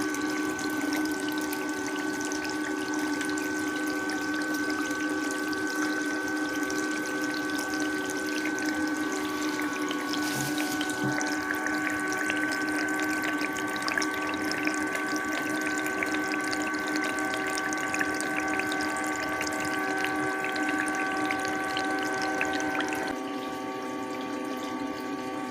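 Water pours steadily over a pair of Converse sneakers from a running pump, a continuous close rush and splash with a faint steady whine that holds for the whole stretch, no voices.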